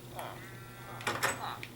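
A video-game sheep gives a short bleat among spawned farm animals, with brief overlapping sounds around it and a person talking at points.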